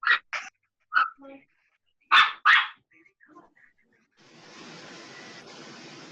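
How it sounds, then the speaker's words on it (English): A dog barks in a quick run of sharp, close barks, with a few softer yips and whimpers between them, before a steady hiss of background noise takes over. "Can anyone hear me over the dog?"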